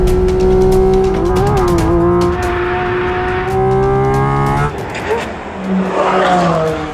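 A 2022 Porsche 718 Cayman GT4 RS under test at the Nürburgring sounds loud and close, its engine note climbing steadily in pitch and breaking off at shifts before rising again.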